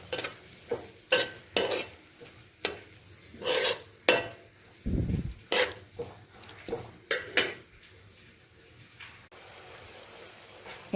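Grated carrot for carrot halwa stirred in ghee in a hot pan: repeated loud scraping strokes of a spoon against metal over a soft sizzle, close and rhythmic, with no speech.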